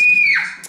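A child screams in one brief, high, piercing burst that slides downward and fades, loud and close, with no talk over it.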